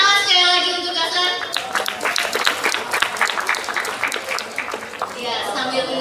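An audience at an award event for PT Rumah Nanas breaks into applause for a speaker, clapping steadily for several seconds after a voice over a microphone fades out, with a few scattered voices underneath.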